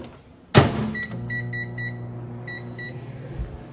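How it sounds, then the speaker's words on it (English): A door thumps shut, a few electronic beeps sound, then a steady low hum of a microwave oven running until a click ends it. "Put it in the microwave."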